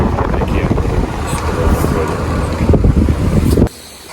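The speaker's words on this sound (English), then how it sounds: "Here comes the truck" A truck rushes past close by on a roadside, a loud broadband roar mixed with buffeting wind that cuts off abruptly near the end.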